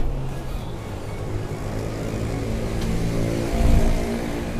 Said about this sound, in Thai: ผมขออนุญาตสตาร์ทเครื่องหน่อยนะให้ฟังเสียงท่อหน่อยครับ